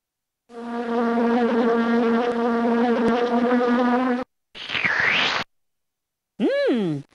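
Cartoon flies buzz in the 1995 Fisher Price Sing-Alongs: Barnyard Rhythm & Moos PC game, a loud, steady droning hum lasting nearly four seconds, followed after short silences by a brief swooshing sweep and a quick rising-and-falling tone.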